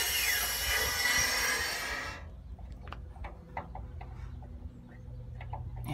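The high-pressure CNG fuel system fills back up after its tanks are turned on, a loud broad hiss rushing for about two seconds, then cutting off into a quiet room tone with faint ticks.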